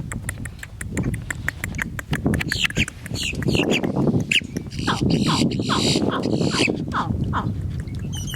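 In the Florida Everglades, a person imitates a baby alligator's distress call, a run of short, repeated throaty chirps, close and loud, with some talking around it.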